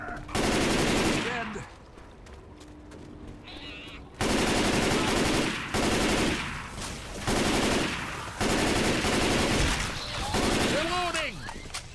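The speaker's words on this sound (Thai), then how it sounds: "แต่ว่ายิงสะใจอยู่นะ M16 เนี่ย" Bursts of M16 assault rifle fire in the zombie shooter Left 4 Dead 2, loud sustained volleys repeating every couple of seconds with short pauses between, and game sound effects in the gaps.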